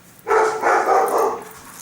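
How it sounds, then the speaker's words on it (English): Dogs bark in a loud, close, sustained volley, the barking running together for over a second before fading, with no speech over it. "there's the dogs going crazy because my flatmate is home"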